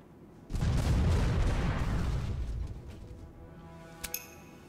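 A heavy ship cannon blast from a Port Royale 4 naval battle booms close and loud, then rumbles and fades over a few seconds, ending in a couple of short metallic clinks.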